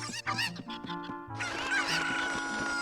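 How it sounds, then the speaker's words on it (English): Chickens cluck in the Zelda: Ocarina of Time video game, a close series of squawks and clucks that then runs into a denser, sustained flurry of fowl calls over a steady game music backdrop. "Let's go play with some chickens."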